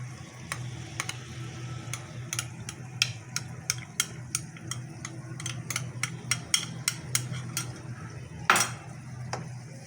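Yogurt being stirred into chicken handi in a pot: a steady run of sharp metallic spoon taps and scrapes against the pot, close and regular, with one louder clatter near the end over a low hum.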